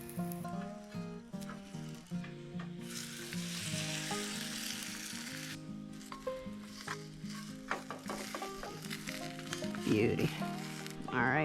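Naan frying and sizzling in a hot pan at a motorcycle campsite, a steady close sizzle with bursts of hiss while music plays throughout and a voice speaks briefly.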